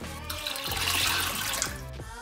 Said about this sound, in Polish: Dodajemy wodę.